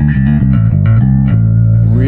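A clean bass guitar with no overdrive plays a short run of warm, round notes, then holds a sustained low note, close and steady.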